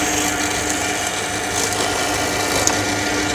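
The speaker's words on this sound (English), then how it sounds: "So drilling right the way through, right the way down with the depth on the drill bit." A drill bores steadily through wooden boards in a workshop, a continuous whirring, rasping grind that stays close and fairly loud for the whole stretch.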